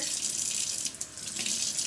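Hands soiled with blackened soap are rinsed under a running tap, water splashing steadily into a sink at close range for a short moment without talk.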